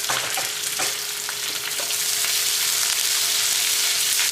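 Onion with green chili and ginger garlic paste sizzles steadily in a pan, a continuous close frying hiss with a few soft stirring clicks, no voices.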